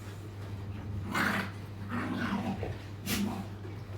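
Dogs at a shelter for abandoned large dogs give low, faint growls and whimpers in short bursts over a constant background hum.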